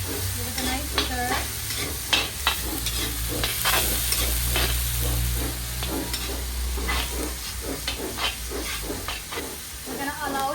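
Onions saute in a pot for a Guyanese mutton cook-up rice, a steady close sizzle broken by a quick run of scraping, clacking stirs across the whole stretch.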